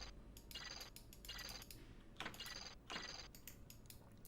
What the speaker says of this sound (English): there's a special sound reserved for the spider